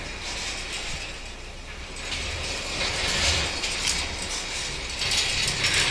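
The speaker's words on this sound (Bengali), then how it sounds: "গেট খুলছি" A gate at a house being opened at night gives a continuous metallic rattling and ratcheting clatter for several seconds, steady and fairly close, swelling slightly toward the end, with no voices.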